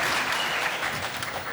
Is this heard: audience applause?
yes